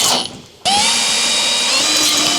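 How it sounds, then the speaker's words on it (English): An impact driver with a short 8mm socket spins up sharply after a brief pause, running a steady high whirring buzz as it secures inner fender liner and fender flare bolts on a 2013-2018 Dodge Ram 1500, close and loud with no talk. "Using the impact driver with the 8mm short socket, secure the inner fender liner and fender flare retaining bolts."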